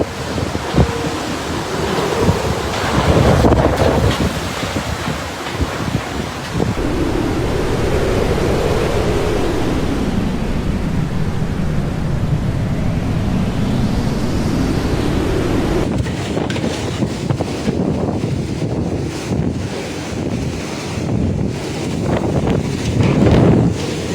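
Loud typhoon wind roars continuously with crashing ocean surf during Typhoon Bavi striking the islands of Rota and Guam, gusts buffeting the microphone and rising and falling throughout with no voices.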